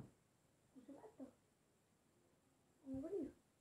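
Cat vocalizing, a soft short murmur followed later by a louder, rising-falling meow near the end, both fairly quiet against a near-silent background.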